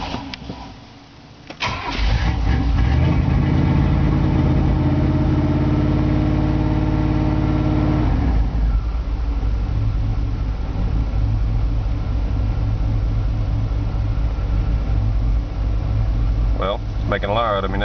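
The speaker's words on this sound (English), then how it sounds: "If I hold the RPMs up, it'll stay running. But as soon as I let off of my pedal," A 1993 Chevrolet Suburban K1500 engine cranks and catches, revs loud and held up, then settles into a rough, uneven idle up close, with someone speaking.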